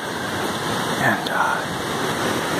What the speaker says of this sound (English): out here we can get a little view of the creek. You probably won't be able to hear me over the sound of it.